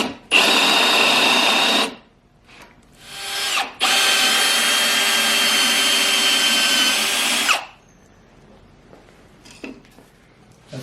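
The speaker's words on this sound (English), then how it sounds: "I'm gonna drill that out, or finish drilling that." Power drill boring a hole through a log during log staircase assembly, a loud close whine in two long runs with a brief slowdown between, then quiet handling clicks.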